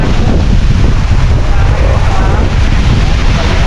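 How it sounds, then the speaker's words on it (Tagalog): Strong wind buffeting the microphone in a loud, constant low roar that drowns out everything else. "ang lakas ng hangin"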